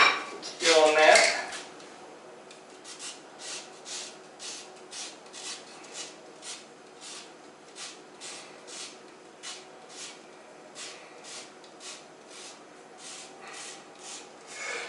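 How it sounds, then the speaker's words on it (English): Lemon being zested and juiced for a traditional mead recipe, with a rhythmic series of short scraping strokes repeating steadily after a brief louder clatter at the start, close and clear with no talk. "So right now I'm going to juice and zest the lemon."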